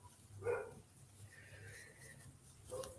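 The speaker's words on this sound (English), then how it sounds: "the dog is barking next door" A dog barks next door, two short faint yaps separated by a few seconds, distant and muffled against quiet room noise.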